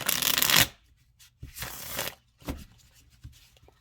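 Tarot cards shuffled by hand, a few close, crisp riffling bursts separated by short pauses, quiet and clear with no speech over them.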